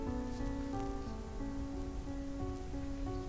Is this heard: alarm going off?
no